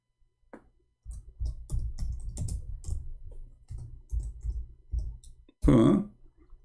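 Typing on a computer keyboard in Arabic, a burst of close, quiet key clicks in an irregular rhythm, ending in a louder thump or knock.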